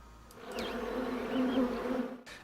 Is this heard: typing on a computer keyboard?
no